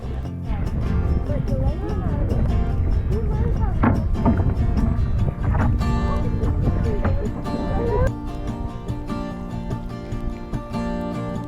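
Paddles work a small boat through gusty wind on an Antarctic cruise, with wind rushing across the microphone and irregular splashing strokes close by.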